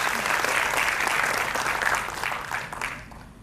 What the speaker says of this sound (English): Let us warmly welcome her with another round of applause, please.